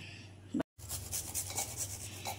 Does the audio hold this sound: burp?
no